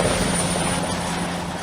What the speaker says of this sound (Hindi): रूस से कुछ ही दूरी पर कई देशों के फाइटर जेट और अटैक हेलीकॉप्टर उड़ रहे हैं।